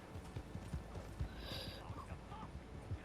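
Faint hooves of a horse in a video game clip-clop in a quick, steady trotting rhythm, with a quiet voice speaking over them.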